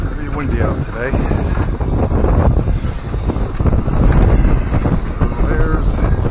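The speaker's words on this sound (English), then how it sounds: "windy out today." Strong gusty wind buffets the microphone throughout outdoors near the Lake Placid ski jumps, a loud continuous rumble with a voice faintly in the background.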